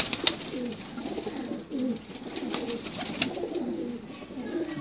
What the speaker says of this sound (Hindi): काले मुंह वाले कबूतर हैं ये जी